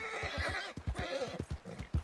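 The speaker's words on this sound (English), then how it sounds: "Horse is freaking out." A spooked horse in the Red Dead Redemption 2 video game whinnies loudly, with a rhythmic series of hoof clops and snorts running beneath the neigh, close and prominent with no talk over it.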